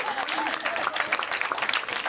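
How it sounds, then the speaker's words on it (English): A comedy club audience breaks into applause, dense steady clapping with a few voices mixed in, close and lively for a couple of seconds. "Over here, round of applause"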